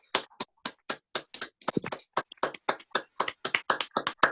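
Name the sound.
online reading participants applauding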